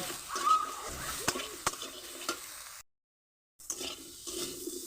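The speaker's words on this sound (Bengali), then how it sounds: "আমি এটা ভালো করে মিশিয়ে নিচ্ছি" Turmeric stirred into vegetables in a pan for a vegetarian shushni greens curry: soft scraping and a few light clinks of a spoon against the pan over a low sizzle, with a short silent gap partway through.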